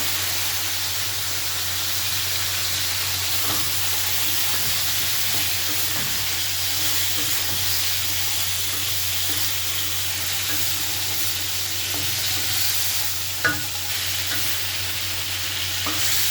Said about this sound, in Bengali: লাউটা দিয়ে আমি মশলাটা থেকে ভালোভাবে মিশিয়ে দেবো